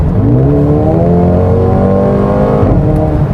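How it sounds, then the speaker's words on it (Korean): Exhaust note of a 2021 Mercedes-AMG A 35 4Matic in Sport Plus mode, heard close and loud as a steady revving drone that climbs in pitch, then dips briefly near the end as a gear changes. "이제 운전자가 느끼는 가장 큰 변화는 역시 배기음 같아요"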